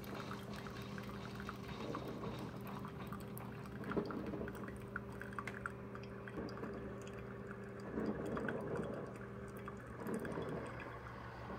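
A Hamilton Beach FlexBrew 2-Way coffee maker heating and boiling water: a low, steady machine hum runs throughout while water quietly bubbles and gurgles underneath, swelling a little in soft waves.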